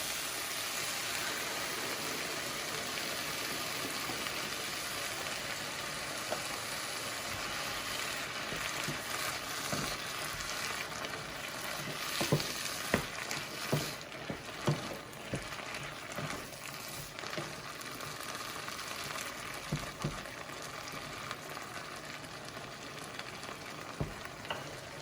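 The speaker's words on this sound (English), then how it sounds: "get those peppers and onions sauteed down some" Peppers and onions sautéing in a pan, a long continuous moderate sizzle with occasional stirring knocks and scrapes growing more frequent midway, no voices.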